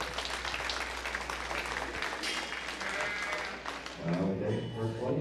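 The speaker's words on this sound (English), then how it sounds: "let's give them a big round of applause to show them our appreciation" Audience applause for the sheep class exhibitors at the 2022 Moore County Stock Show, a steady, dense clapping from a crowd that carries on throughout and swells slightly near the end.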